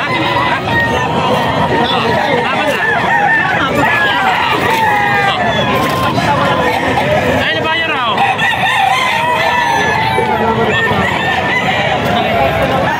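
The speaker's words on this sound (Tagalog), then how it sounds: "Ayan, mga idol, mga manok ni Boss Rod." Roosters crow repeatedly over a busy yard of clucking chickens, with people chattering in the background throughout.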